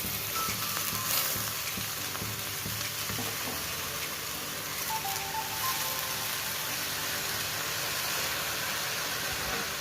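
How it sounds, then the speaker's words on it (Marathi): Pumpkin leaves sizzle and crackle steadily in a hot frying pan, a loud, continuous hiss of frying with faint stirring scrapes throughout and no talking. "आता आम्ही याच्यामध्ये भाजी घालतो."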